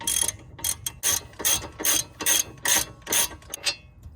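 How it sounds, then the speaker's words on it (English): A 1/2-inch ratchet with a 22 mm socket undoes a front brake caliper bolt on a G35/350Z, giving repeated bursts of close, loud clicking in a steady back-and-forth rhythm with no talking. "that's where the 22 comes in with your 1/2-inch ratchet"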